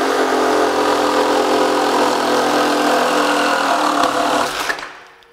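A Milwaukee M18 cordless power saw, running on a high-output 6.0 Ah battery, whines loudly and steadily as it cuts for about four and a half seconds, then winds down and stops.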